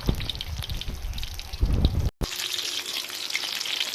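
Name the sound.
frying eggplant and fish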